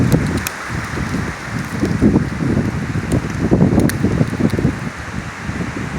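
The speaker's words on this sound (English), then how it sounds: "It's probably about 50, 55 on this wind, and pine burrs are falling everywhere." Strong gusts of about 50–55 mph rush through pine trees at a lakeside campsite on Allatoona Lake, a loud, ragged, continuous roar with buffeting against the microphone and scattered ticks of falling debris, close by and without talk.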